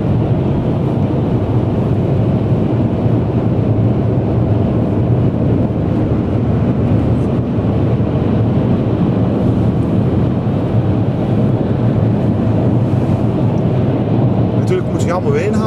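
A 2012 Ford Focus 1.0 EcoBoost 100 hp ECOnetic Titanium accelerating on the road, a steady broad engine and road roar heard from inside the cabin with wind noise, loud and continuous throughout.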